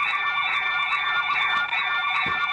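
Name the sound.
Commax nurse call system emergency alarm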